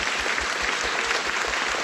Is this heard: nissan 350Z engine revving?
no